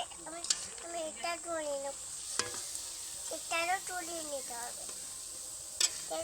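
Semolina and jaggery poa pitha frying in oil, a faint steady sizzle running beneath a voice and other speech, with a few sharp clicks.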